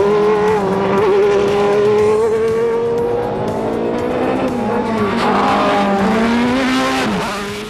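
Reynard 93D race car with a 3.5-litre, 630 horsepower Judd V10 engine, loud and close, its high engine note climbing and falling steadily through gear changes with a tire squeal, continuous throughout.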